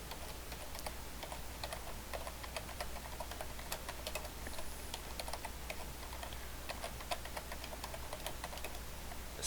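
Steady, quiet keystrokes on a computer keyboard as a Unix password is typed in during a server install, a continuous patter of light clicks with no voices.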